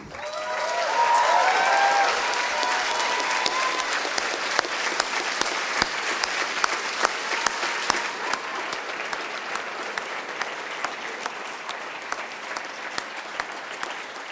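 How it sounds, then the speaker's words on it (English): Sustained applause from a large furry convention crowd at a closing ceremony, loud and dense at first, then thinning into scattered individual claps, with a faint voice near the start. "I want to ask for an applause for all of you"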